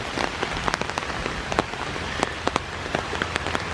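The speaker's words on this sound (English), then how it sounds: "Listen to that rain." Rain falls steadily on the woods of the Ohio River Bluffs preserve, a dense close hiss broken by frequent sharp drops tapping nearby leaves, with no talk.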